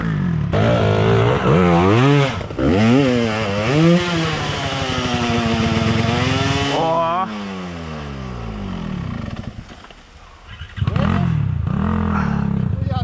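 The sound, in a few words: motorcycle engine revving on difficult trail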